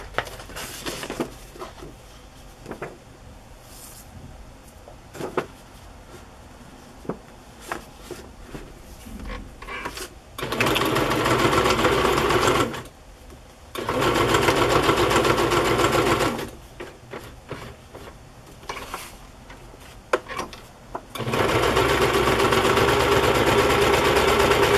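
Sewing machine stitching laces and fabric flips onto a handmade journal, with long steady runs of loud whirring stitching after a stretch of quiet handling noises.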